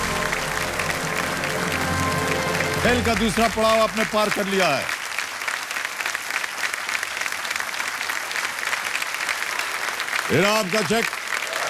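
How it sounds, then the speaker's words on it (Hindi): Studio audience at a Hindi TV quiz show applauding steadily and loudly for a contestant, a dense wash of clapping that runs throughout while someone speaks over it. "तालियां बजती रहनी चाहिए इनके लिए"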